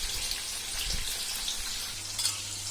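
Okra (bhindi) deep frying in hot oil, a steady close hiss and sizzle that carries on evenly without a break.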